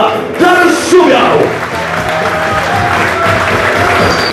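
Indoor arena crowd applauding and cheering as a basketball team coach is introduced at a season presentation, a loud announcer's voice at the start giving way to sustained clapping.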